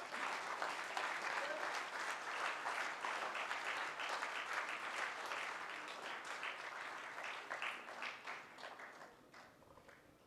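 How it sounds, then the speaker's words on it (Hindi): Audience applause at a memorial lecture event in a hall, a long even patter of clapping from a sizable crowd that gradually thins and fades over about ten seconds. "आप लोग एक बार तालियां उठाओ भाई साहब।"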